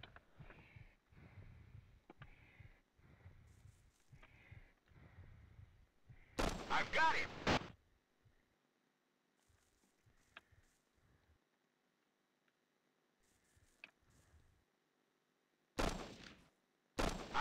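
Video game gunfire from the shooter "Na poroge voyny: Predstoyanie" comes in two loud bursts, separated by quieter stretches of faint clicks and muffled sounds, with some earlier low rumbling.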